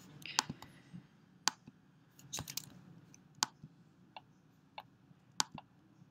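A computer mouse clicks in a scattered series of about a dozen sharp, dry taps at an uneven pace, close and quiet, with no one talking.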